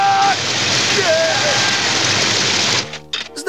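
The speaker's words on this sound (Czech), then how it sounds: "Ten kraval od vodopádu tě úplně přehluší." A roaring waterfall in an animated film gives a loud, steady rush of water for nearly three seconds, with brief voices over it, and then cuts off abruptly into quieter sounds.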